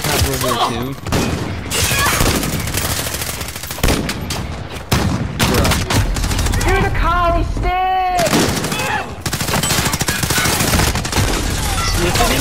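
M19 pistol gunfire in the video game Call of Duty Modern Warfare, loud and dense, mixed with other game shots, impacts and effects, while a player talks over the action throughout.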